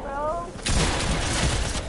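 A loud burst of video game gunfire hits with a sharp crack, followed by a noisy broadband tail, after a short stretch of a voice talking.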